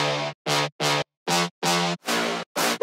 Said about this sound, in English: And I also added some stabs like this.